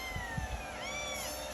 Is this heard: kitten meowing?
yes